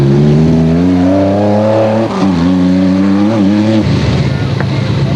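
Nissan rally car at the Sugarbelt 400 in 2001 roaring past on a muddy track, loud engine revving with gear changes and a drop in pitch as it goes by, a voice talking over the noise.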